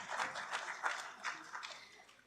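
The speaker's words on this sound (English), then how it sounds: "Please join me with a round of applause as I welcome our chair for the session, Mrs. Preeti Sudan," Soft, fairly distant applause from a conference audience welcoming a session chair, a steady patter of many hands with no voices.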